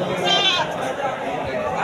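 Kacang goats bleat at a busy livestock market, a short wavering call close by over crowd chatter and people talking.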